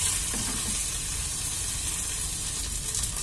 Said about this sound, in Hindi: हमें इस तरह से चलाते हुए चिकन को पकाना है।